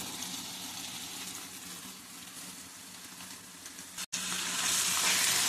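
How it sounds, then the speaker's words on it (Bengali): Spice masala with onion, garlic, coriander powder, chili powder and salt sizzles and crackles in a pan for a chicken pickle. The frying hiss is steady and close, briefly cuts out, then returns louder. "মশলাটা ভালো করে ভেজে নিব"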